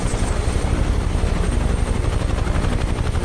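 Bell UH-1 Huey helicopter engine and rotor in Microsoft Flight Simulator 2020, a loud, close, steady broadband roar with a fast rhythmic rotor chop and no talk.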